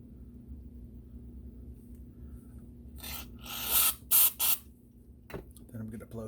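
Cleaner is sprayed in short hissing bursts into a Dellorto VHB 29C carburetor from a 1973 Moto Guzzi, three or four close, loud squirts after a quieter stretch, with a faint rumble under them.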